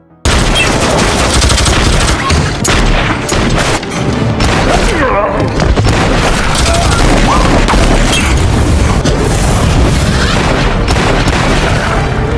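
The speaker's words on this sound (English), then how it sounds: "A group of criminals then quietly came out of their hiding place and managed to shoot Lee" Gunfire in a film scene with criminals and a counterattack: loud, dense bursts of shots and booming impacts pound almost nonstop, with music and effects layered throughout and voices faintly mixed in.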